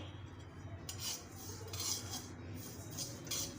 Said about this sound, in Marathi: एक दोन ते तीन मिनिट आपण तीळ सतत हलवत राहणार आहे